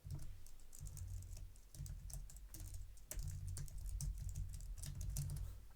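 Rapid keystrokes on a computer keyboard as a host name and password are entered, a steady run of close, crisp clicks with small pauses between bursts.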